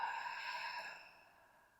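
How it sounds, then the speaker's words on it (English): A slow, soft sigh-like exhale through an open mouth during a guided yoga flow, one long breath fading gradually over about two seconds, close and alone. "Exhale, open your mouth slowly, let the breath go."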